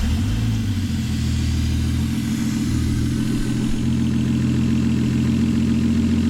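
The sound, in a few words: Toyota Supra 7M turbo engine revving in Nissan S13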